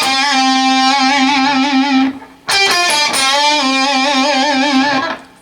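Heavily distorted electric guitar plays a sustained bent note that releases and shakes with wide vibrato, cutting off briefly before a second bend-and-vibrato phrase rings out loud and close, a blues-style lick from a guitar lesson.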